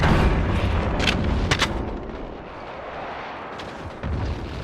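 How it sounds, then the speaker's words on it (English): Allied precision airstrike in the Modern Warfare beta video game: a series of heavy booming explosions, several sharp blasts close together followed by rumbling detonations later, loud and without speech. "Allied precision airstrike."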